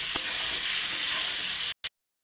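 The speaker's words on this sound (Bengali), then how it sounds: "আবার একটু ভালো করে কষে নেব" A spice masala for a Bengali rohu fish curry with raw banana and potato is stir-fried in a pan, hissing in a loud, steady, close sizzle with faint stirring before it cuts off abruptly.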